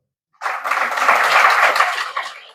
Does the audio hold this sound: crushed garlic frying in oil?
no